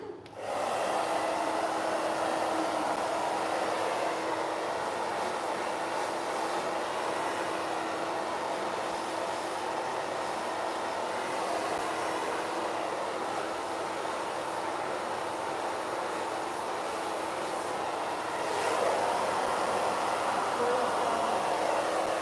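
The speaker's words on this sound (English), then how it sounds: "I'm going to that side so to blow dry her hair so you can see better the way I'm blow drying the side" A hair dryer blows steadily at close range while short hair is blow-dried, a continuous loud airy roar with an even hum that keeps going without a break from start to finish.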